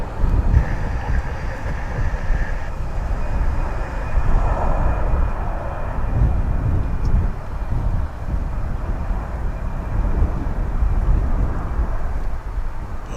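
An Airbus A319 airliner at DFW Airport rumbles steadily as a broad, loud roar with gusty wind buffeting across the whole stretch, no voices present.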